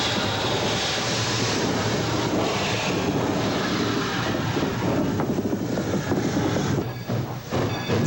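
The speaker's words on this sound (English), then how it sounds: "The 80-year-old locomotive got a helping hand from a friendly diesel, and then it was on its own." The 80-year-old L&N 152 steam locomotive rumbles along the tracks, its broad, continuous roar steady and loud throughout. Faint clickety-clack of wheels on rail joints runs underneath, and the noise ends in a few sharper bursts near the close.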